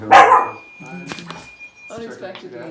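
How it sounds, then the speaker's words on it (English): A pet dog barks once, sharply and fairly close, at the start, followed by a few softer yips while someone talks over it. "That was my dog barking there"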